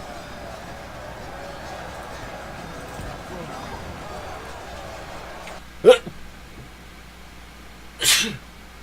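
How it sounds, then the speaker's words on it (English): Two loud, sharp human sneezes close to the microphone, the second about two seconds after the first, following several seconds of quiet background murmur. "Oh, I'm gonna sneeze."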